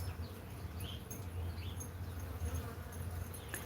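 Bees buzz steadily around a hive, a low continuous drone with brief higher passes as individual insects fly close by, fairly faint, with no talking.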